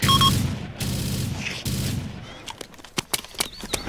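Rapid bursts of gunfire from ARMA 2 Operation Arrowhead, loud and dense at first, then scattered sharp shots and cracks at varying distances in a battlefield skirmish.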